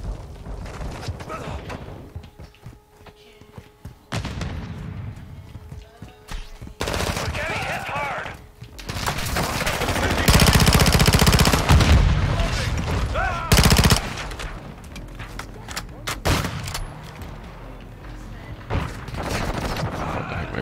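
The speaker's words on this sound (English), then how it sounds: "Shooting at or where they're shooting from." Rapid automatic gunfire and bursts from a Call of Duty multiplayer match, loud and sustained with heavy stretches and brief lulls, with a player talking over the action.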